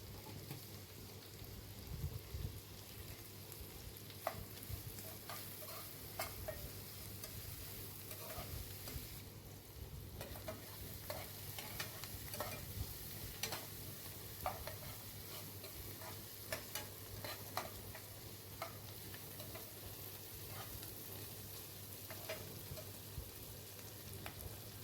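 Onions frying with salt in a pan while being stirred, a continuous faint sizzle with scattered light spatter pops and utensil scrapes throughout, with no talking.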